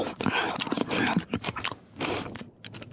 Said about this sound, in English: Why does he chew so loud?